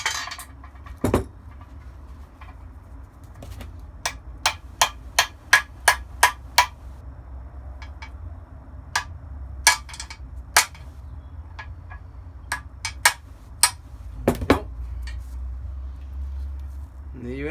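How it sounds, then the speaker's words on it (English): Sharp metallic hammer strikes knock an old bushing out of a VW Golf GTI MK4 1.8T control arm in a home garage, a close sequence of irregular single and clustered blows over a quiet background hum. "put it on the top of that, and just hit it with a hammer"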